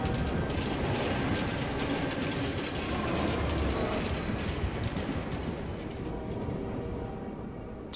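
Train traffic passes in the video game Assassin's Creed Unity, a dense, steady rumble of rolling rail cars with rhythmic clacking and a faint wheel squeal, fading slightly toward the end.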